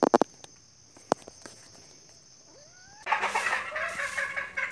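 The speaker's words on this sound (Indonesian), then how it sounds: "Ayamnya ini yang barusan kena jerat itu setelah dimasukkan ke sangkar, ya lumayan jinak." Red junglefowl held in a cage after being caught in a snare, with a few faint close calls and rustles, then a dense burst of bird calls and chatter in the last second and a half.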